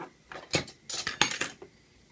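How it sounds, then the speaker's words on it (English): A wooden stirring stick is snipped into three pieces for mixing weathering powders, giving a few short, sharp clicks and snaps clustered within about two seconds, close and fairly quiet. "I'll just cut this stick into three."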